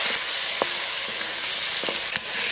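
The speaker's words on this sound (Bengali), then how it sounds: "পটলটা আবার ভেজে বসিয়ে দেব। হলুদ গুঁড়ো, নুন ভালো করে ভেজে নেব।" Pointed gourd sizzles in oil with turmeric powder and salt, a brief, close, continuous frying hiss punctuated by a few sharp spatula scrapes and taps as it is stirred.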